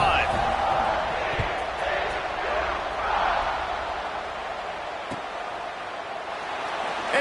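A college football stadium crowd in Utah roars as a steady, distant wash of cheering and whooping, with an announcer talking over it and a few sharp thuds cutting through.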